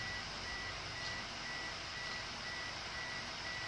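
A parked car's warning beeps with the door open, a faint, steady series of thin electronic tones repeating evenly above a constant outdoor hiss.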